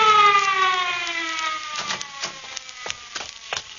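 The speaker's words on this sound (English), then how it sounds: "That's the ambulance." An ambulance siren wails and slowly falls in pitch, loud at first then fading, as a rescue unfolds in a radio drama; sharp scattered knocks and bumps break in over the dying tone.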